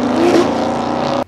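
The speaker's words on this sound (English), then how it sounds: "as soon as it makes boost, it's just on the limiter again" A Toyota Supra's turbocharged engine snarls at high revs and bounces on the rev limiter, loud and close, then cuts off sharply at the end.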